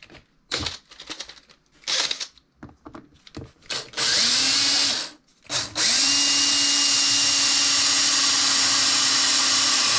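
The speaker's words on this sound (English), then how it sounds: "Come on, drill, you pile of crap." A power drill, battery-run off grid, drilling holes with a blunt bit during a knife build, whirs in several short bursts, then runs in a long continuous loud spin near the microphone, with clicks and handling noises between bursts.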